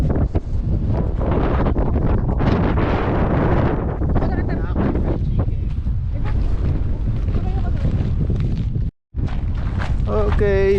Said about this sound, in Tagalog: Bilis pa ng hangin.